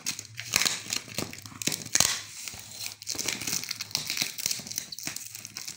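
Cardboard packaging being torn and wrestled open, with tape on it, giving close crinkling, tearing and crunching noises in irregular bursts.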